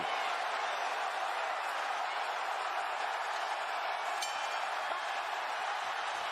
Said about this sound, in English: The crowd electric.